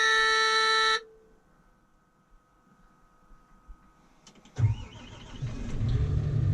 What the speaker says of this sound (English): so we'll get it started